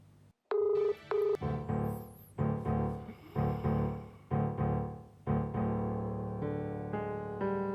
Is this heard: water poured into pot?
no